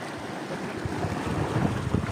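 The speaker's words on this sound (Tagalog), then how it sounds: "Isang alon!" An ocean wave breaks around swimmers at a beach, giving a close, rough rush of churning water and wind buffeting that swells and fades over a couple of seconds, with no talking.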